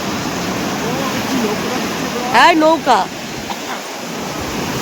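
Sea waves roar and break on the shore in a continuous loud wash, swelling slightly partway through while a voice speaks briefly over the surf.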